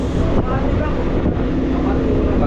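Boat driven by a Nissan engine running on a sea trial, a loud steady drone with wind buffeting the microphone, and someone talking over it.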